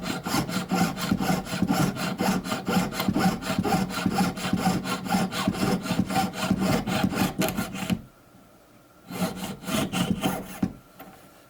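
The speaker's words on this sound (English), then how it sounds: "use your jeweler saw to cut through the seam" Jeweler saw cutting through the seam of a silver ring, a quick rhythmic rasping of rapid even strokes, close and loud, pausing briefly near the end before a short final burst.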